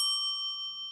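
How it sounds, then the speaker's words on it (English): A bell struck once by a coach during a coaching session gives a clear, bright ring that fades slowly over about a second, heard alone. "play the bell, that sounds like this."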